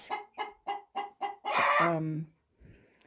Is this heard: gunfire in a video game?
no